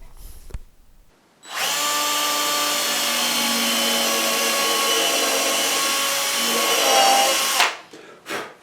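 A power drill bores a 2.5mm strap button hole into a Telecaster guitar body, a steady, close whine lasting about six seconds after a brief quiet start, then stopping abruptly with a few faint handling knocks.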